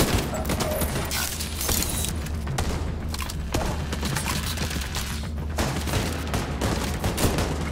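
Dense, continuous gunfire from a co-op firefight in The Division 2, with bursts of automatic weapons, booms and heavy thuds piling up loud and close with no break.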